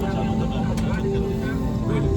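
Airplane cabin noise while the plane is still on the runway before takeoff: a steady, loud engine and air hum with faint voices murmuring underneath throughout.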